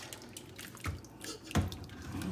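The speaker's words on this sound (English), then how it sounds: "We get to pour the rest of the sauce on top." Thick ragu sauce is poured on top of a dish, giving soft wet splats and glugs in a few uneven bursts, close and moderately quiet with no talk.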